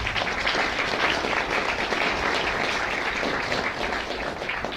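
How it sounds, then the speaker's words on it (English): Sustained applause from an audience at a political gathering on tax reform and Medicare cuts, a thick, even roar of clapping that stays loud throughout with no voices breaking through. "Another round of applause, please."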